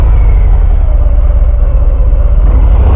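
A Harley-Davidson Fat Bob engine starts and idles close and loud, a steady low throbbing rumble with no voices.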